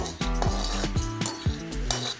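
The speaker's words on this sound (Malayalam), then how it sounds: "ഇങ്ങനെ ഒന്ന് വറുത്തെടുക്കുക" Cinnamon, fennel seeds and peppercorns dry roasting in a pan for a Kerala chicken dish, with steady scraping and stirring strokes and repeated clinks of a utensil against the metal, close and clear with no talking.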